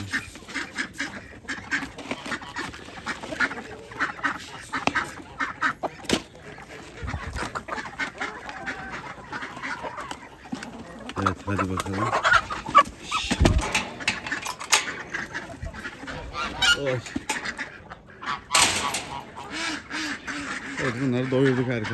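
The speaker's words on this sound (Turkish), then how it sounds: "Ördekler de bekliyor tabii bir şeyler." Ducks quack intermittently against a busy background, mixed with people talking nearby and other farmyard fowl calls.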